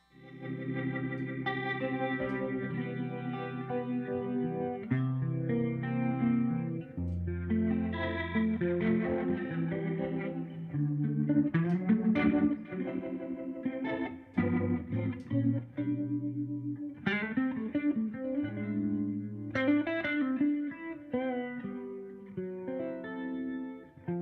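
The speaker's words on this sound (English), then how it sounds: "The ventilator right there to the bottom left, that's what is my Leslie sound." Electric guitar played live through a Leslie-style rotary speaker effect pedal, its chords and runs swirling with a warbling chorus-like shimmer, sustained and continuous with no talking.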